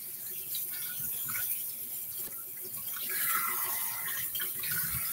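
Tap water running steadily into a basin to fill a bath for kittens, a continuous hissing splash with a rising filling tone, moderately close, with faint bits of voice beneath.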